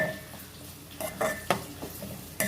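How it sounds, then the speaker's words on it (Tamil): Chopped onions with rock salt are sautéed in a pan for a fish curry. A spatula gives a few clinks and scrapes against the metal over a quiet sizzle, with no speech. "அதை கட் பண்ணி வச்சுருக்க வெங்காயத்தை அதில் போட்டு நல்லா லைட்டாக கொஞ்சம் உப்பு போட்டு"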